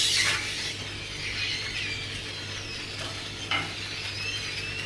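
A French crepe sizzles steadily in a hot pan, with a brief scrape or flip sound partway through and a soft stir-like rustle near the start; no one speaks.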